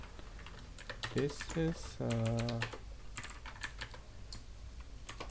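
Computer keyboard typing while setting up a WebSocket RPC message format, soft rapid key clicks running throughout, with someone speaking over them for part of the time.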